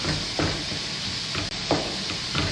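Breaded chicken cutlet frying in oil, a steady sizzle with bursts of crackling and occasional stirring, close and fairly loud with no talk.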